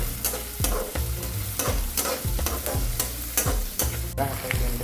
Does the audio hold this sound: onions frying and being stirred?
yes